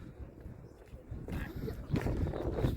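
Wind gusting across an exposed hilltop on a mountain, a steady rushing roar that swells louder in the second half, buffeting close to the microphone.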